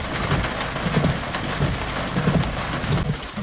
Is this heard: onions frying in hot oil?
no